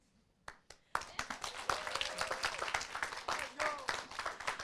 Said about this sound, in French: j'aimerais qu'on t'applaudisse, Marianne